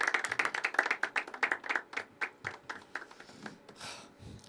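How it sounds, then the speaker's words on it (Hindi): Audience clapping at an evening poetry open mic, a burst of sharp handclaps near and loud that thins out into scattered claps and fades. "ज़ोरदार तालियाँ उठाइए फरस सांझ भाई"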